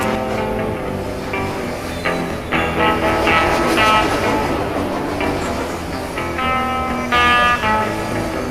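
An Amtrak passenger train rolls past steadily and loudly for several seconds, with rumbling wheels and rhythmic clatter as the cars go by.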